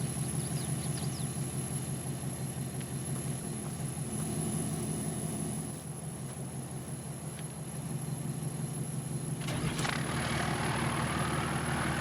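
A big Cummins truck engine in Farming Simulator 22 idles with a steady low rumble and faint whine, fairly quiet and unbroken, with a brief clatter near the end.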